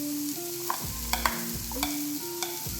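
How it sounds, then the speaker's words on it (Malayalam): Chopped beetroot tumbles into a hot pan with curry leaves for an egg beetroot thoran and gets stirred, so spoon scrapes and clatters sound over a steady close sizzle. "നമുക്കിതിലേക്ക് ഇനി ബീട്രൂട്ട് അരിഞ്ഞു വെച്ച് ഇട്ട് കൊടുക്കാം."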